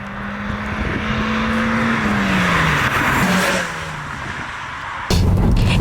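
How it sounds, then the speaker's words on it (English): A 2019 Honda Civic Sport sedan with a 2.0 engine and center exhaust, pulling along the road with a loud, steady engine drone whose pitch rises and dips as it shifts, ending in a sudden rougher surge. "That new center exhaust really makes a cool sport sound."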